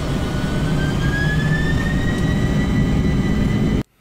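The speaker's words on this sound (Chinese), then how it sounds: "飞机加速。" A small self-balancing line-following robot's speaker plays a simulated airplane engine speeding up, a steady droning roar with a rising whine, loud and constant before cutting off abruptly at the end.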